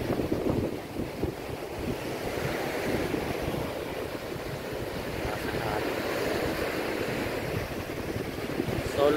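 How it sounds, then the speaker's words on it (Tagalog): Strong surf roars steadily close by on a beach in Unisan, Quezon, Philippines, with heavy wind buffeting the microphone throughout; no clear talking stands out. "Ang lakas ng alon."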